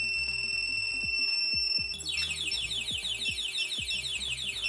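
A keyless anti-theft motorcycle alarm blares in its noisy mode, a loud steady electronic tone that switches partway through to a rapidly warbling siren, with repeated sharp clicks and thumps underneath.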